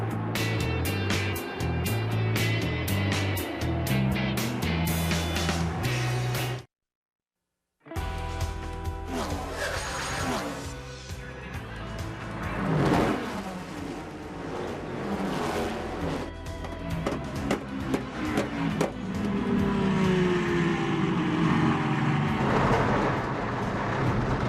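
Race cars at the 2008 Rolex 24 at Daytona roar past loudly in continuous passes, engine tones rising and falling against a dense, busy background, with a brief silent break near the start.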